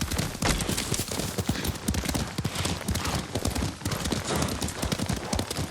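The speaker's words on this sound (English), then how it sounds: "Lord Sakai taught me to ride a horse." Rapid hoofbeats of a galloping horse in the video game Ghost of Tsushima, steady and close, pounding on continuously without a break.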